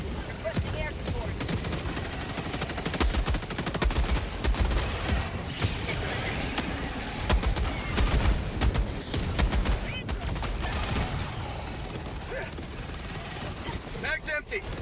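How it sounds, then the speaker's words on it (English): Orbital strike explosions and rattling gunfire in Helldivers 2 at the highest difficulty, dense bursts and booms rolling continuously with a voice speaking over the battle. "Calling in orbital strike."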